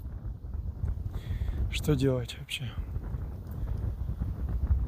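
Strong mountain wind buffeting a microphone during a motorcycle trip in the Caucasus near Bermamyt, a constant low roaring rumble throughout, with someone briefly speaking over it.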